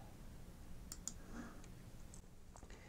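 Mouse clicks on a chat icon in a web dashboard, a few faint, sharp ticks alone over quiet room hiss.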